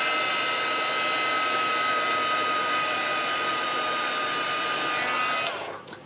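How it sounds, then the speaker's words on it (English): A heat gun blows with a loud, steady whirring hiss and a fixed motor whine, running continuously close by before switching off and winding down in the final second. "can we stand to listen to the heat gun for a minute?"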